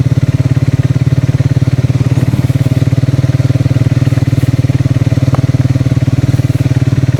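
A motorcycle engine drones loudly and steadily at close range with a rapid even pulse while riding on a road, alone without voices.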